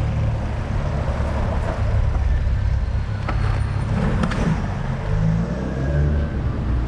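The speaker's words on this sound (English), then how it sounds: "I'm waiting for traffic here" Steady road traffic rolls past at a roadside, a continuous low rumble of cars and heavier vehicles with a brief hiss like an air brake midway, no voices.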